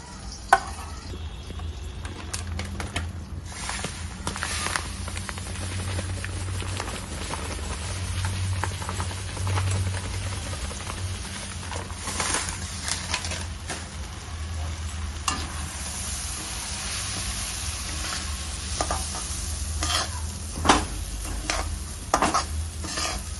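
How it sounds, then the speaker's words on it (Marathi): Lapsi, broken wheat, roasts in ghee and butter in a pan, a continuous soft sizzle with frequent spatula scrapes and clinks against the metal, close and steady, no voices. "आता ही लापशी आपली चांगली भाजून घ्यायची तुपामध्ये आणि बटरमध्ये"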